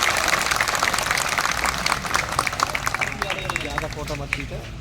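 Crowd at a Delhi political rally applauds to welcome the state vice-president and former cabinet minister to the stage. Dense, steady clapping fills the whole stretch, with voices talking over it.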